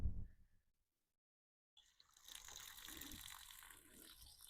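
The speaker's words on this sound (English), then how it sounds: "Turn on the water." Water gushes from a tap hooked up at an RV campsite beside a 34-foot Class A motorhome, starting abruptly after a brief silence and running as a steady, fairly loud broadband hiss with some spattering.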